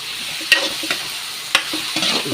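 Dinuguan ingredients sautéed and stirred in a pan, a steady sizzle broken by sharp scraping clatters of the spoon against the metal, close and without talk.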